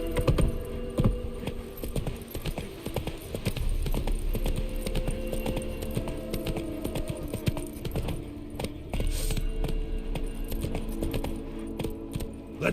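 Roach the horse galloping in The Witcher 3: Wild Hunt, rapid rhythmic hoofbeats with jingling tack over a low throbbing game score, continuous and close.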